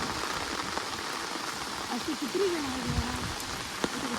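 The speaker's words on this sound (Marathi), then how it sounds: "पाऊस आलाय परत एकदा" Heavy monsoon rain pours over a flooding river, a steady broadband hiss that fills the whole clip, with a faint voice rising briefly in the middle.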